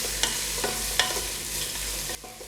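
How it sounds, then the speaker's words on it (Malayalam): Three large sliced onions sauté over a medium flame for a Bombay biryani, giving a steady sizzle and fry, with a few sharp clacks of a spoon stirring against the pan. "മീഡിയം ഫ്ലെയിമിൽ വെച്ച് നമുക്കിതൊന്ന് വഴറ്റിയെടുക്കാം."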